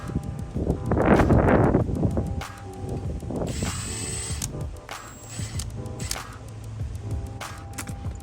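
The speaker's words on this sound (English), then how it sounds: "let's go ahead and get those Torx bits and back off this fuel pump" A ratchet with a Torx bit backs out fuel pump bolts on a BMW B58 engine, giving bursts of close mechanical clicking with some clatter and wind noise in between.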